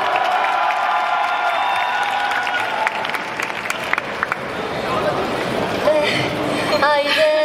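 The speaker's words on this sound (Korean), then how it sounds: "박수 한번 좀 크게 한번 좀 부탁드릴게요." A crowd at an outdoor fromis_9 concert at a youth economic festival in Incheon applauds and cheers loudly and steadily for several seconds, with shouts rising near the end and voices mixed in.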